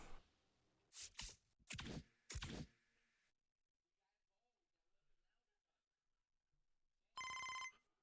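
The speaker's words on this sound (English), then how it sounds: "Oh, my phone ringing again." A phone rings in the baseball game MLB The Show 25: a short bright electronic ring near the end, after several loud thumps and knocks, with quiet gaps between.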